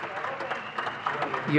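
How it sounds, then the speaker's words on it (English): An audience at a panel on youth in agriculture claps in a short, moderately loud burst of applause, with a voice talking over it. "A warm round of applause."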